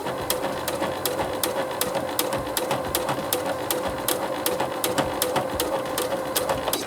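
A sewing machine runs steadily, stitching a seam in a T-shirt, with a fast even whirring hum and regular needle clicks, close and continuous without pause.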